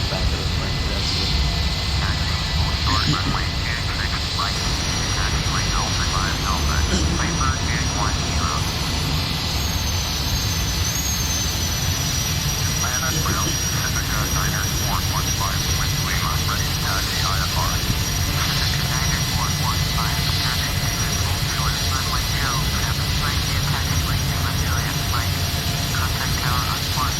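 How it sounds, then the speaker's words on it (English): An airliner in Prepar3D rolls for takeoff on a flight from Atlanta to Miami, a steady jet engine roar and whine holding constant throughout while someone talks over it. "So the plane is rolling."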